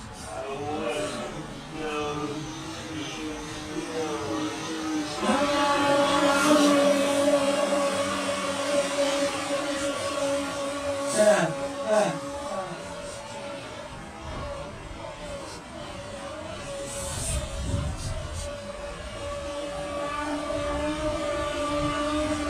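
Small RC boat on a 3S battery running across a flooded soccer field, a steady buzzing motor whine that swells and fades as it passes, fairly close and continuous, with occasional voices nearby.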